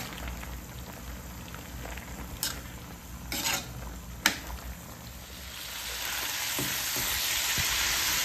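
Adobo sizzles and fries in a pan at a steady, moderate level with no talking, and a few sharp clinks of a utensil stir through the sizzle.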